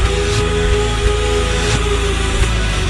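Reversed AI-generated song slowed to 0.75 speed with pitch lowered, a dense, droning, atmospheric wash of sustained tones and low bass with soft periodic swells, steady and loud throughout, no voices.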